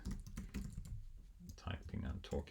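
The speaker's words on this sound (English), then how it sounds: "Typing and talking at the same time." Rapid clicking of computer keys in short bursts, faint and close, while a person keeps talking over the typing.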